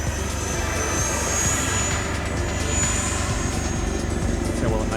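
An FMS Rafale 80mm electric ducted-fan RC jet flies aerobatics, including knife-edge passes, as a steady whining, rushing drone that swells slightly as it passes at moderate distance, with no talk over it.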